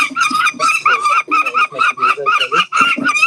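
Peregrine falcon chicks in a nest box at the University of Montreal, calling loudly in a rapid run of shrill, harsh cries that repeat in quick bursts close to the microphone.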